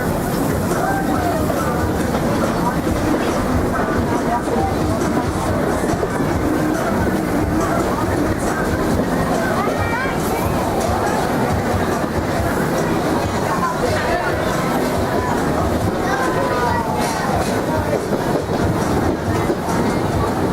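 Miami Valley Railroad train at the Kings Island amusement park running steadily, a constant loud rumble and rattle of cars heard from on board, with crowd chatter and voices mixed in.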